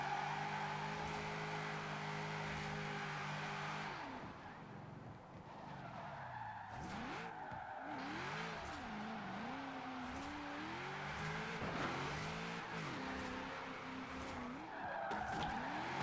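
Car tires spinning and screeching through a drift in the video game Forza Horizon 4, a long sustained squeal over a wavering, revving engine whose pitch rises and falls as the car slides.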